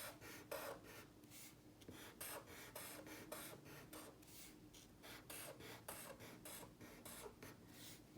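A pencil drawing zigzag lines on paper, a soft, rapid back-and-forth scratching in steady strokes. It is close but quiet and heard without talk.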